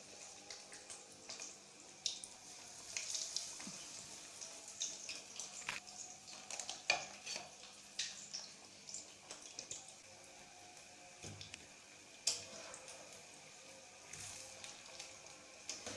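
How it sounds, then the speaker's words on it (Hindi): Potato donuts fry in hot oil with a faint, steady sizzle and scattered soft pops and crackles close by, low in level and with no talking. "ऑयल हमारा जो है वो अच्छे से गर्म हो गया है। अब मैं इसमें जो है वो डोनट्स डालती हूँ।"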